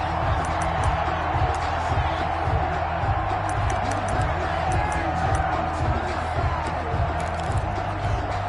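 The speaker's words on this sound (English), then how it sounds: "this crowd loves it as their guys hold on the opening drive" Stadium crowd in a PS4 football video game, a steady loud roar of cheering fans with rhythmic thumping beneath, while a commentator talks over it.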